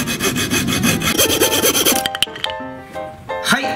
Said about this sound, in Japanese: それではノコギリを使ってカットしていきます。